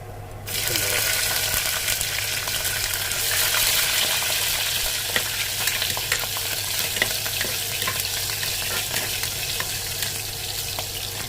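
Steady, dense sizzling of sliced onions frying in hot oil with fennel, urad dal and mustard seeds for mutton curry, continuous and close throughout, with a low hum underneath.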